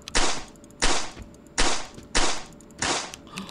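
Four loud, sharp gunshots ring out at evenly spaced intervals in the horror game Dead Home, each a hard crack with a short tail, followed by a fainter fifth shot.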